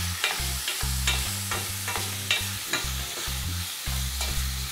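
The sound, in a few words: searing beef loin in a pan, stirred with a wooden spoon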